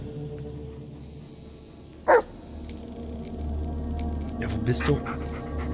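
A dog in the video game Blair Witch pants steadily and gives a sharp bark, then a couple of softer yips, while someone speaks briefly over faint ambient noise.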